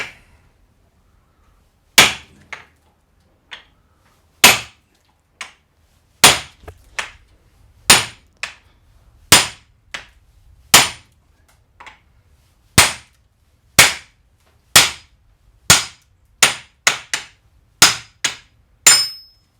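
Sharp metallic hammer blows ring out one after another knocking out rusted front wheel bearing inners on a 2014 Citroen C4, irregularly spaced with short pauses, loud and close, no talking.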